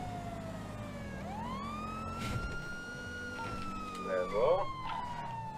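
Police car siren wailing in a GTA roleplay game, a steady rising-and-falling tone close by and loud, running under a man's speech with a brief burst of higher chirping near the end.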